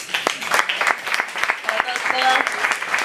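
Audience at the opening panel of a national student history conference breaks into applause, sharp close claps over a room of clapping hands, with voices and some cheering mixed in.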